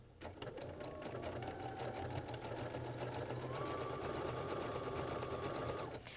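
A Baby Lock sewing machine with an overcasting foot stitches steadily, a fast even mechanical rattle with a faint motor whine, running continuously and close before stopping.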